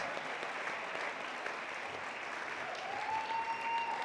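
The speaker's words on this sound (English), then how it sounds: "let's give all 9 people a huge round of applause." Steady audience applause at a fundraising gala, faint and distant, holding evenly for about four seconds with no talking over it.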